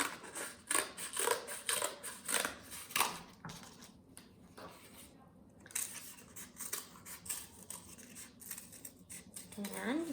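Scissors snip through cardboard pieces in a steady run of crisp cuts close up, pausing briefly midway before resuming, with some talk around the cutting.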